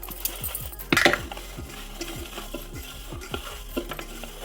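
Tempering seeds tossed and stirred in hot oil in a pan for an amla and red chilli pickle, giving a run of metallic scrapes and clinks, with a sharper clatter near the start over a faint sizzle.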